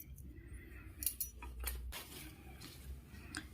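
Scissors snip through crochet thread with a few small, crisp clicks and metallic ticks spread over a few seconds. The sounds are close but faint against a low room hum.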